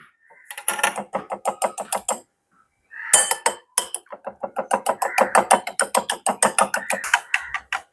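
Eggs beaten with a spoon in a bowl: rapid, evenly spaced metallic clinks in fast bursts, close and sharp, with a brief pause between runs.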